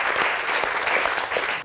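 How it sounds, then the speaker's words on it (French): A church congregation at a Methodist Christmas service applauds in a dense, steady burst of many hands clapping that carries on without pause to the end. "On va vous saluer par des acclamations."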